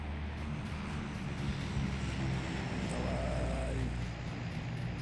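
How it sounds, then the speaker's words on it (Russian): A propeller drop plane droning steadily in a PUBG-style battle royale game, a constant low engine hum holding at even loudness throughout with no pauses or changes. "Самолет же летит?"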